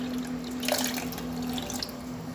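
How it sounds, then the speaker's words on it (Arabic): A large glass of water is poured over lemon pieces for juice, a soft close trickle and splash with light drips, over a faint steady hum. "وغادي ندير معاها الماء، كاس كبير"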